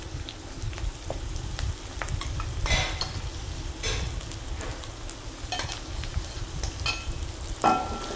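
Ground green chilli and coriander chutney sizzles steadily in hot oil in a pan with curry leaves, with close, continuous frying and repeated scraping stirs and clinks of a spoon.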